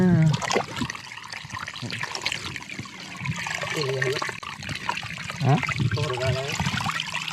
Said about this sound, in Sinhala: දැන් අපි මෙතන වතුර ටික කඩන් යන් චාමින්දු